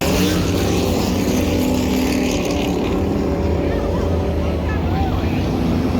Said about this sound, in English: And as the race vehicle moves away.